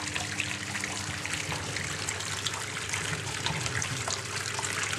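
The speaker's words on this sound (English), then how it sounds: "Okay, and out comes the hot, steamy 95 degree water." Hot, steamy 95-degree water pours out of a Whirlpool washing machine during a sudsy wash, a steady close trickling and gushing stream with a broad hiss running unbroken throughout.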